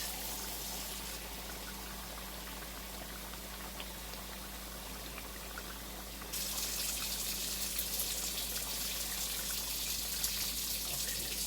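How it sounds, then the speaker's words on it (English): Tap water runs into a cooking pot of oxtails in a home kitchen, a steady close hiss and splash that grows louder and brighter partway through as the flow increases, with no talking. "Let me add the water first."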